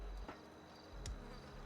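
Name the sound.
queen bee buzzing in a video game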